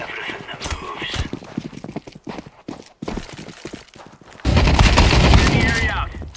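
Video game gunfire comes in sharp bursts and rapid volleys mixed with footsteps and a voice speaking, ending in a loud, sustained barrage of automatic fire.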